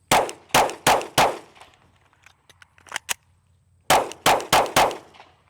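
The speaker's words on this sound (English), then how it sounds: "draw and fire 5 in 5 seconds" Handgun shots crack out during an FBI pistol qualification drill: a quick burst of four loud shots, a pause with faint clicks and handling noises, then another rapid string of four shots, no talk.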